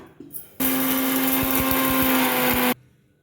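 A mixer grinder whirs steadily as it grinds garlic, black pepper, cumin and coriander for a quick rasam. The loud, continuous motor runs alone for about two seconds with a strong steady hum, then cuts off abruptly.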